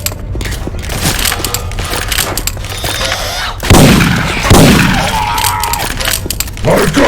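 Punchy game gunfire from Syphon Filter weapon sounds swapped into Left 4 Dead 2, a dense run of shots and booms over busy game noise, with two heavy blasts midway and voices briefly in the mix.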